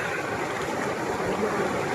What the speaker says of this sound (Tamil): அங்கே பத்தியா தண்ணி என்ன வேகம் வருது பத்தியா, செம்ம வேகம் வருது.